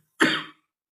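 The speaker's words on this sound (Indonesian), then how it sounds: "Nah, batuk we." A single short, harsh cough, close and fairly loud, lasting under half a second, with silence on either side.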